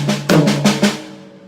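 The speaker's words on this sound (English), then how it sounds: "So an obvious choice would be to play the single right hands and the single left hands on a tom-tom." Single right and left hand strokes on a tom-tom, five resonant hits in a quick even rhythm with a ringing tonal decay, played close and loud with no talking.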